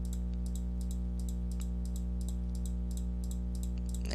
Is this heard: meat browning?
no